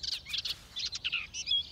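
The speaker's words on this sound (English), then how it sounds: "Sing now, birdie, sing the song." Cartoon birds chirp in quick, high, bright bursts, a few rapid tweets in a row, then a short pause and another cluster of trills, close and clear with nothing else behind them.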